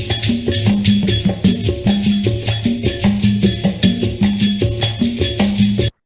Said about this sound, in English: this is what a traditional 6/8 rhythm might sound like